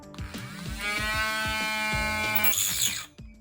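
A small motorized cutting tool struggles through material for a statue diorama, a thin rising whine with a repeated ticking beneath it, under-powered and stalling toward the end, heard up close and fairly quiet.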